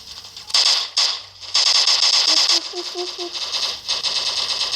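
Automatic gunfire in the mobile shooter game Block Strike comes in loud rapid bursts with short pauses between them, mixed with beeping game effects and tones.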